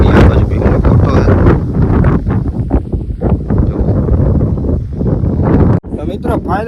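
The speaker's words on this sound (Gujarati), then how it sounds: "અહીંયા પવન આવે છે એવો ઠંડો ઠંડો મસ્તીનો" Strong wind on the Osam hill summit near Patanvav at Bhim no Kotho, roaring steadily and loudly across the microphone with gusty buffeting throughout and a brief dip near the end.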